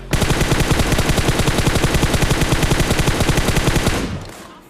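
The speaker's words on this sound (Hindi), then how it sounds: "यहाँ पे मैं बंदे को एक बॉडी शॉट मारता हूँ" Automatic gunfire from PUBG Mobile on the Livik map rattles in one loud, rapid continuous burst of evenly spaced shots lasting about four seconds before cutting off.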